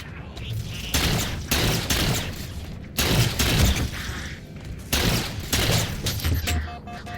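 Needler supercombine explosions in the Halo 4 video game, several loud crackling bursts of blasts in quick succession with brief gaps between them, and game noise around them.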